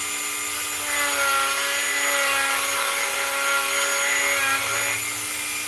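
A rotary sanding tool whines steadily with a constant high pitch while sanding the inside edge of a ring made from a 1929 Walking Liberty silver half dollar. The sound is close and continuous, with no talking.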